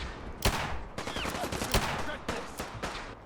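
Gunfire during Fallout 4 combat, sharp irregular gunshots and short bursts at moderate distance, scattered across the moment with faint background noise between shots.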